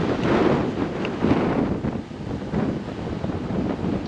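Strong wind buffets the microphone while cycling a road beside Coniston Water in the Lake District, a steady loud broadband rush with gusty swells and no talking.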